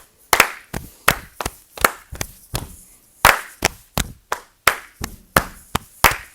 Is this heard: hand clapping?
yes